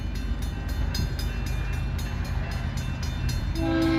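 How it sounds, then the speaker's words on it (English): A southbound BNSF grain train rolls steadily past up close, a continuous loud rumble with rhythmic clatter from the wagons and a horn-like tone rising near the end. "we got BNSF grain coming southbound."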